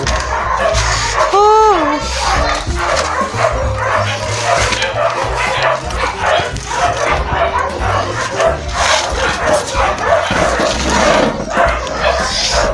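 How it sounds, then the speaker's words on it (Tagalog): Many dogs barking, yipping and whimpering close by, a dense overlapping chorus that keeps going throughout with loud, busy barks, while a few people talk underneath. "May ingay man, ang daming aso."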